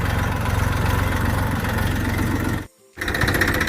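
A tractor engine idles at a farm during the wheat season, with a steady low, throbbing rumble that stays loud and close, dips briefly to near silence, then resumes.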